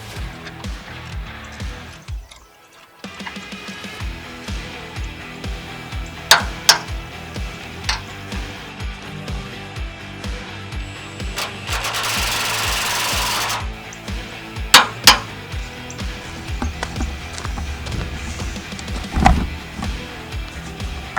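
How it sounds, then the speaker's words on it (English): Mechanical clicks, clanks and a buzzing tool run of about two seconds come from work on leaf spring bolts on a GMT400 truck's 14 bolt axle, with sharp ratcheting ticks scattered through a steady shop background. "So we went for 80 on the leaf spring bolts, and now I'll be going for 80 on the U-bolts."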